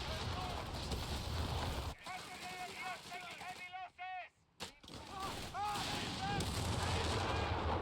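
Machine gun and bazooka fire in the Company of Heroes 3 strategy game, a dense battle din of rapid shots and blasts that briefly drops out mid-clip, with a voice speaking over it.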